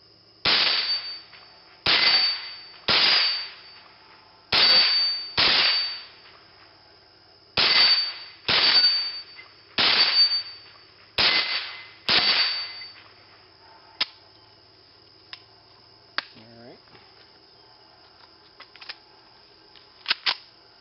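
A .22 rifle fires at a metal blade target, about a dozen sharp cracks with clangs, spaced roughly a second apart and then thinning out to a few faint ticks, loud and close, with no talking.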